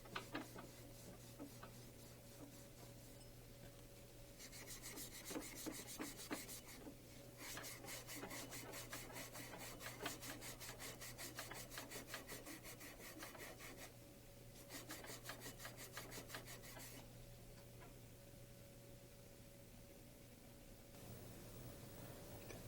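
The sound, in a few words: deburring a metal rotor shaft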